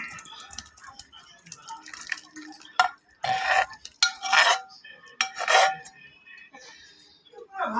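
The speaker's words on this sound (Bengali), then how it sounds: "এবার এটাকে একটি পাত্রে ঢেলে নিচ্ছি।" Cooked soybean curry being poured and scraped from a pan into a serving pot: metal spoon scrapes and clinks against the vessel, wet sloppy pours in bursts, close, with faint room noise between.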